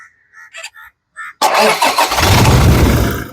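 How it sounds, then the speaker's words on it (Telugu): A 2019 Toyota Fortuner 4×2 engine cranks and starts on the first try, then settles into a steady, fairly loud idle close by, after some short knocks and clicks just before the start. "మళ్ళీ ఒకసారి మీకోసం ఇంజన్ అనేది స్టార్ట్ చేసి చూపిస్తున్నాను ఒకసారి స్టార్ట్ చేయి ఇంజన్"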